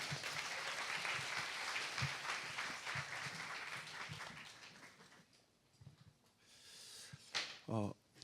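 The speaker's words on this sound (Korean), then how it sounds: "우리 목사님 박수로 환영하고 초청하겠습니다." Congregation at a Christian conference morning service in Europe applauds to welcome a pastor, dense clapping for about five seconds that fades out, followed by quiet and a few brief louder sounds.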